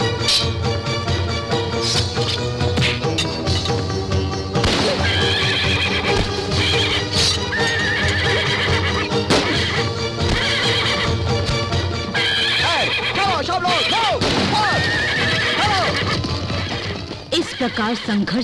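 Battle scene from a Jhansi ki Rani Lakshmibai film: a horse neighs loudly and repeatedly while hooves clatter, all set against dense music and commotion, with voices in the mix.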